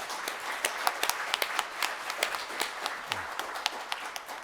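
Audience applause at a foundation's 2021 report meeting, a modest crowd clapping in separate sharp claps, moderately distant and fairly quiet, steady throughout with no talk over it.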